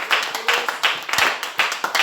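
A church congregation claps in a steady rhythm, applauding and acclaiming the Lord. The sound is close and full, with voices faintly mixed in.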